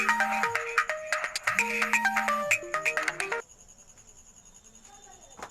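A mobile phone ringtone plays for an incoming call, a loud repeating electronic melody of rapid tones that sounds for about three and a half seconds and then stops, leaving a quiet room.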